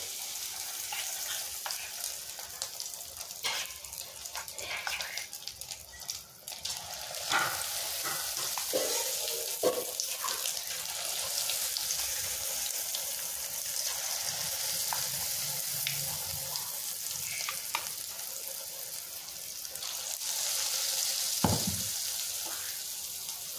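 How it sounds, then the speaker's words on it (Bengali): Chicken pieces fry in hot oil over a medium flame for chili chicken, a steady close sizzle with crackling bursts and occasional stirring clatter throughout. "আঁচটা মিডিয়ামে দিয়ে ভাজলে পরে ভেতরের চিকেনটা খুব সুন্দর করে ভাজা হয়ে যাবে।"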